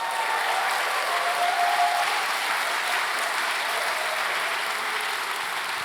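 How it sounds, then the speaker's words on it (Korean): A church congregation at a gathering applauds together in a dense, even wash of clapping that holds steady and fairly loud for about six seconds, with no voices over it. "여러분 그 기쁨을 한번 박수로 한번 표현해 봐 주십시오"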